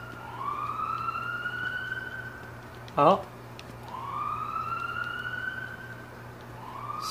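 Siren Head monster siren noises in the video game Dreams: long rising-then-falling wails repeat at steady intervals under a constant hum, with one short loud burst and a brief spoken exclamation midway.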